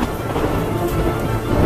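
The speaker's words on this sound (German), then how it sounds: "Es blitzt und donnert." Thunder rumbles low and continuous while steady rain pours down during a storm, a dense, loud wash of weather noise with no voices.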